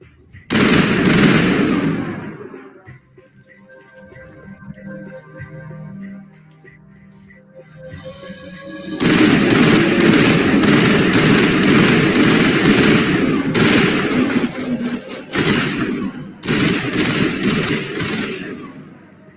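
Bursts of rapid weapon fire from the video game Mass Effect, loud and close, one burst early on, then sustained heavy firing with short pauses through the second half, with quieter game sounds between.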